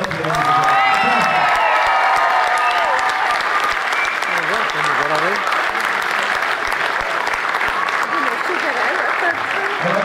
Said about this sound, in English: big round of applause for the runners up here